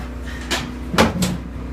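Lid of a rope gear locker opening aboard a WWII all-original PBY Catalina aircraft, heard as a few soft wooden-metal clunks and creaks close by, with no talk.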